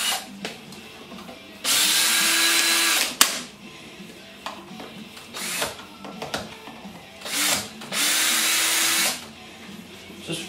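Power drill backing screws out of the top rail on a 2002 Mazda Miata soft top, whirring in two long steady bursts with shorter zips and clicks between, close up.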